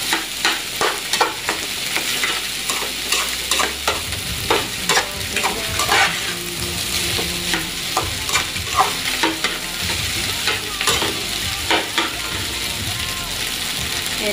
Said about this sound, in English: Aduk. Mix, mix, mix.